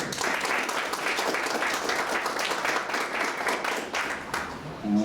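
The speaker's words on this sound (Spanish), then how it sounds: "un fuerte aplauso recibimos al doctor Fernando Urquizu" An audience applauds to welcome a speaker to a talk, steady dense clapping filling the room for the full five seconds with a faint murmur at the very end.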